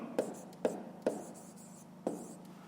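Pen or chalk tapping and scratching out numbers for a fifth-grade maths exercise, four distinct close strokes spaced about half a second apart, with faint speech in the background.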